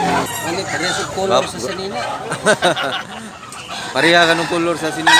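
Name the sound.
chicken clucking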